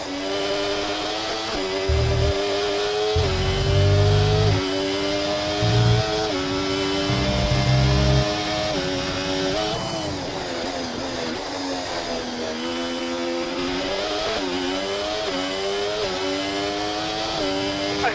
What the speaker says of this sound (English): Okay, Lewis, engine's running very, very hot.